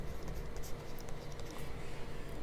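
A pen scratches steadily across paper at close range, writing out a maths solution in a continuous, busy scrawl of short strokes.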